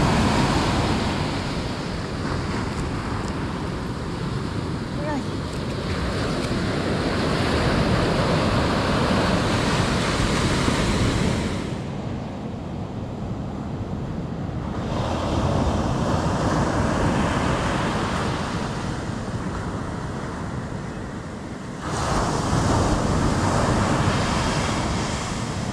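Ocean surf rolls in with the incoming tide on Isla de Cañas in southern Los Santos, Panama, a loud continuous wash of breaking waves that swells and recedes in long surges, with wind buffeting the microphone.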